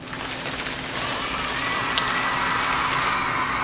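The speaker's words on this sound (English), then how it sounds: "That's why it's raining so hard." Heavy rain pouring down in a dense, steady hiss of drops striking a surface, loud and close, with a faint click near the end and no voices.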